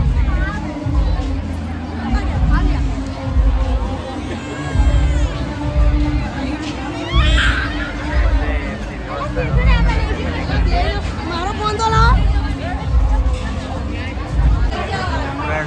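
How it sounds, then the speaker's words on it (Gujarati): Loud, packed carnival crowd at Kankaria Lake in Ahmedabad: continuous babble with children shouting and cheering, repeated surges of nearby voices and high squeals rising over a dense, ongoing roar. "જબરજસ્ત ભીડ છે."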